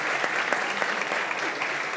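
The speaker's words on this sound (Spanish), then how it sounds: "Un aplauso por esa reformulación de pregunta" Steady applause from an audience during a spoken-word podcast session, dense and continuous for two seconds at moderate level with faint voices mixed in underneath.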